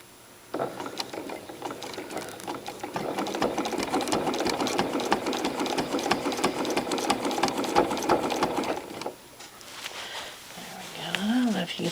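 Free motion quilting with rulers on a sewing machine, stitching continuous curves: a loud, close, rapid mechanical chatter of needle strokes running steadily, pausing briefly, then resuming, with a voice heard near the end.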